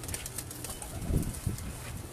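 Pigeons, prized Teddy breed kept by a fancier, coo softly in a loft with a couple of brief wing flaps mid-clip, close and fairly quiet against steady background noise.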